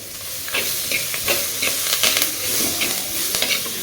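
Onion, chili and curry leaves sauté in a pan for village-style pirandai chutney, making a constant loud hiss and sizzle with scattered scrapes and taps of a spatula stirring close by, and no voices.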